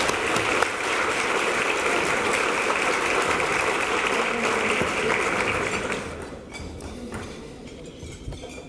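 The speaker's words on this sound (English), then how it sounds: "So I wanted to give him a huge round of applause." Guests at a luncheon give sustained applause, dense, even clapping that fades out after about six seconds, leaving scattered claps and room noise.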